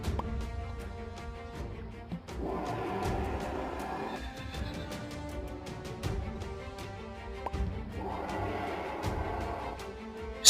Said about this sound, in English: Australian bustard.